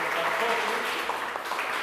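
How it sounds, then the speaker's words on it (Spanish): Applause from an audience at a church lay-presence gathering in Callao, honouring a young member, a steady dense patter of clapping filling the whole short stretch at moderate level. "yo quiero pedir un aplauso para Miguel"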